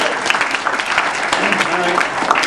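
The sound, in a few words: applause for volunteer coming on stage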